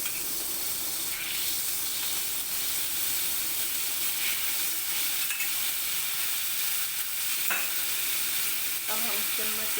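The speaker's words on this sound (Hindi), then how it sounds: "अब हम चम्मच के साथ इसको अच्छे से आपस में मिक्स करेंगे।" A spoon stirs bread pieces with ghee in a hot pan, giving a steady sizzling hiss broken by a few scraping strokes, close and alone with no voices.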